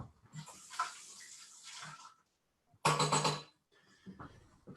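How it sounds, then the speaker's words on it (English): Tap water splashes into a cocktail shaker in two bursts, the second louder and fuller. The water swirls and sloshes between the bursts, with a short silence in the middle. "I'm going to go ahead and I'm going to rinse this out."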